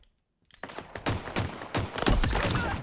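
MK50 rifle gunfire in the Halo Infinite video game, a quick series of sharp, loud shots in a rapid irregular burst after a brief silence, close and dense.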